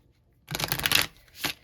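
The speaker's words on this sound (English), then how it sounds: "let me shuffle." A quick burst of riffling tarot cards, a dense papery flutter lasting about half a second, then a shorter second riffle, close and clear with no talking.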